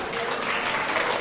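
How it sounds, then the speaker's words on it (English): An audience claps steadily throughout, a dense, even wash of applause from a crowd at moderate distance. "Please, a round of applause for that."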